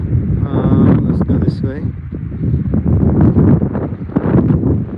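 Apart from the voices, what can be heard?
strong wind blowing on microphone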